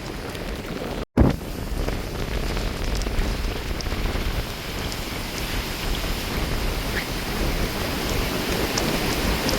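Steady heavy rain pours down with gusting wind, a dense continuous wash of noise broken by one brief dropout near the start.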